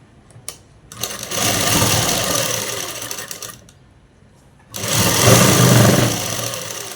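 A sewing machine stitches a jeans collar neck in two long running bursts separated by a pause, a close, steady mechanical whir with a few small clicks before it starts.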